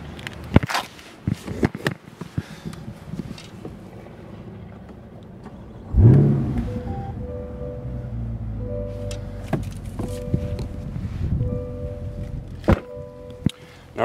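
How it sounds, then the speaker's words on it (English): A C8 Corvette convertible's engine fires with a sudden loud startup burst and then settles into a steady low idle. Faint clicks and thunks sound nearby before the start. "Let's go ahead and start this bad boy up."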